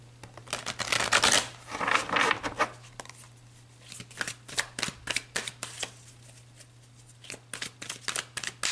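Tarot cards being shuffled by hand, a fast riffling flurry followed by a string of crisp, rhythmic card snaps and slides, close and clear with no talking.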